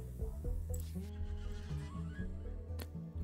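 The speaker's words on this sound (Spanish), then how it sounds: "¡Oh sí, caballos!" Horses neigh in the video game Rimworld, several loud whinnies in quick succession over a busy game soundscape with hoof-like clopping.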